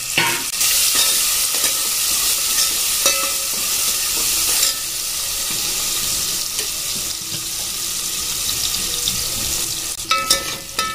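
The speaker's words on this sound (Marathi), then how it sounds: "इथे आपला छान प्रकारे आता कांदा फ्राय होतोय" Onion and curry leaves fry in a pan for dal fry, a loud, steady sizzle with continuous stirring scrapes that thin out briefly midway, then brief clatters near the end.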